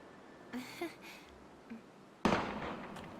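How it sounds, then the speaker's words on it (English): A sudden loud burst of gunfire from the video game Valkyria Chronicles breaks in near the end, after a few faint, muffled sounds over low background noise. "Gunfire!"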